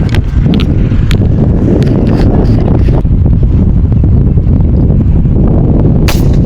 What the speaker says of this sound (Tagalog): Ang lakas na hangin mga idol.